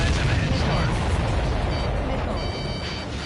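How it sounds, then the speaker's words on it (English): An enemy ship explodes in the flight combat game Ace Combat 7 with a loud, continuous, heavy rumbling blast that fills the whole clip at a roughly steady level. "Did you see that explosion?"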